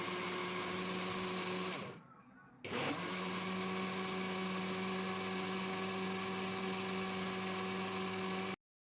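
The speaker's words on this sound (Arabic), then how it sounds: "ودلوقتي هنروح مع بعض نضرب المكونات دي كلها في الخلاط كويس لحد ما يندمجوا مع بعض ويدوبوا على الآخر" An electric blender whirs steadily while mixing liquid cake batter ingredients for a sponge cake, loud and close, briefly dropping out and restarting before cutting off at the end.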